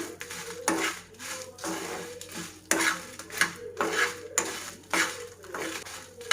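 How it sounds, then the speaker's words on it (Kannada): Fenugreek seeds and spices frying on a low flame in a pan for Kundapura-style bangde fish curry, heard as rhythmic metal spatula scrapes and clinks against the pan over a faint sizzle, with no speech. "ಇದಿಷ್ಟನ್ನು ಲೋ ಫ್ಲೇಮಲ್ಲಿ ಚೆನ್ನಾಗಿ ಫ್ರೈ ಮಾಡ್ಕೊತೀನಿ"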